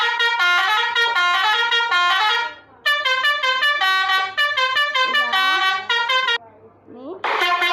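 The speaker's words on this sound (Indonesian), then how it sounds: "ini semua telolet yang udah aku download" Downloaded telolet bus horn melody blaring in loud, rapid stepping multi-tone bursts, broken by brief pauses and a short sliding tone, with faint talk in the gaps.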